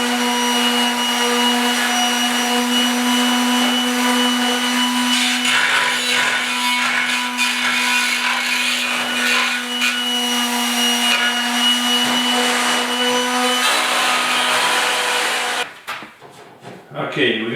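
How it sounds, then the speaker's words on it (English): Power sander working on a metal side panel for a fabricated box on a 1956 Mercury pickup, a loud steady whine with a strong hum running continuously, under speech, cutting off near the end. "So I'm going to take the sander."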